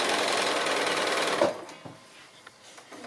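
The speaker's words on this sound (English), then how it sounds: "I might just keep going, sewing my pieces on" A sewing machine stitches quilt pieces in a steady, close whirring run for about a second and a half, then stops, leaving a quiet room with a few small clicks and handling noises.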